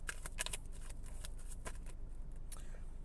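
Tarot cards being shuffled during a pick-a-card reading, a steady stream of soft riffling and snapping bursts up close, heard alone without talk.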